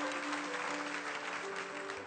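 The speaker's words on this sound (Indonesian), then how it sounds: "kasih tepuk tangan untuk Tuhan sekali lagi" A church congregation applauds together, a steady and dense wash of clapping that holds at an even level from start to finish with no voices above it.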